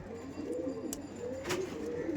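Punjabi pigeons cooing at close range, low rounded coos repeating through the clip, with a few brief sharp clicks and faint background noise.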